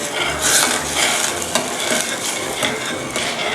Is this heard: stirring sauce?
yes